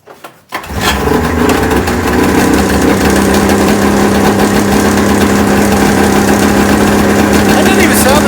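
A boat engine on a Formula III idles steadily and loudly after a brief quiet start, with a constant low hum and rough mechanical vibration throughout, sounding faulty.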